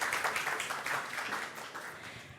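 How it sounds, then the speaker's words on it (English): Audience applause at a startup pitch competition as a presenter is welcomed on stage, a steady, moderately distant wash of clapping filling the room throughout, fading slightly toward the end. "Please applause for her."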